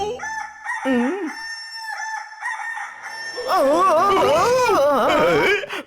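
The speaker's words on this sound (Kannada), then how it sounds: "ಕೋಳಿ ಸರ್ ಅದು." A rooster crows loudly and close in a cartoon scene, a drawn-out cock-a-doodle-doo, with a second crow rising over background music.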